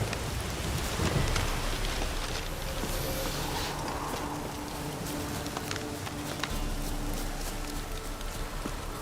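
Heavy rain pours in a steady hiss through a downpour in the video game The Witcher 3, with faint low rumbles and scattered sharper ticks beneath the continuous wash.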